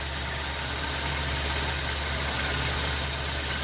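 A sewing machine runs while stitching curvy line designs on a quilt, making a steady, close, even motor hum that never pauses, with no talking.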